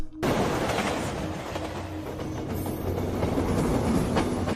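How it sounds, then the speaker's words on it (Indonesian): A train speeds along the railway toward a tunnel in Indonesia, giving a loud, steady rumble and rolling clatter of wagons that runs unbroken through the whole stretch, with no voices. "Kereta masih melaju kencang untuk menuju ke terowongan berikutnya"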